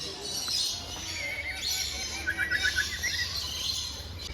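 Birds chirping loudly inside an aviary at Ramoji Film City, with repeated bright tweets and short call bursts rising over a steady low background rumble.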